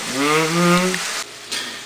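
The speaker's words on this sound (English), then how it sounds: "Hear that sizzle?" Loud sizzling and crackling of steak and peppers frying in a hot pan, close up, with a brief break in the sound near the end.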